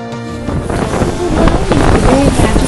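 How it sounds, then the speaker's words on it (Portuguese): Strong, cold wind buffets the microphone in Toronto near the CN Tower, a continuous loud roaring gust with a faint voice underneath. "Frio do caralho! Vento do caralho!"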